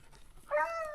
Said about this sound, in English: That's that Suki dog I like so much.